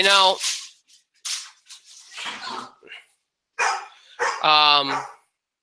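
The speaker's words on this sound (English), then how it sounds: "Clearly my dog agrees." A pet dog barks indoors in a few short, sharp bursts mixed in with someone talking nearby.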